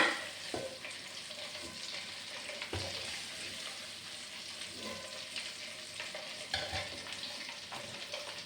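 Chicken pieces coated with Kashmiri chili powder fry KFC-style in a pan with a steady, close crackling sizzle, broken by occasional clacks of stirring.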